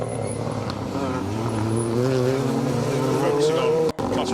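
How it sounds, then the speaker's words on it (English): Two Ford Fiesta rally cars approach on a closed forest stage at a rally championship event, engines droning loudly and steadily with rising pitch as they draw nearer, continuous throughout. "Two Fiestas making their way towards us at the same time."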